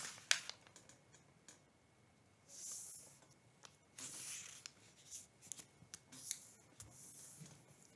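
Paper is folded and creased for an origami airplane, with crisp rustles, sharp crackles and short sliding strokes close to the microphone, coming in irregular bursts with quiet gaps and no talking.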